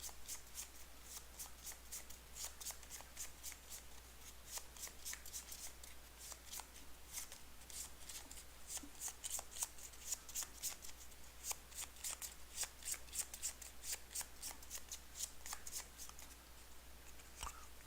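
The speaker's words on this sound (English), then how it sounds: "I shuffle this deck of story cards" A deck of story cards for the Arkham card game is shuffled over and over near the listener, each sharp riffle and snap coming in a steady, repeated rhythm with no talking.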